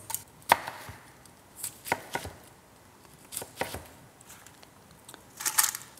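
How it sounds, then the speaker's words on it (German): An onion is coarsely chopped with a knife for homemade stock, giving irregular sharp chops on a board, close and fairly quiet, with short pauses between bursts of cuts. "Und die Zwiebel dann auch einfach grob zerkleinern."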